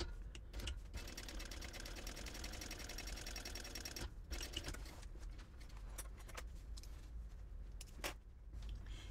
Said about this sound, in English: Okay, so now I'm going to top stitch on this side.